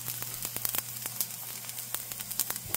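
Edible gum (gond) frying in desi ghee, a soft continuous sizzle broken by frequent sharp pops and crackles, close up and fairly quiet, with no talking.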